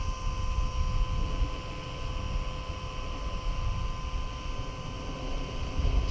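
Blade SRX200 RC helicopter hovering outdoors in a light breeze, a steady continuous rotor whir and drone held at constant level for several seconds, with wind noise and no talking.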